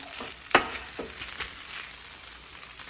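Fried rice drying out on a griddle over medium heat, with a continuous bright hiss of frying and a few light scraping strokes as it is moved around, close by, with no talking.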